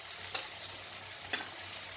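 Onions fry in a pan for a home-style Vidarbha dal fry, with a steady, soft, close sizzle and two light stirring taps.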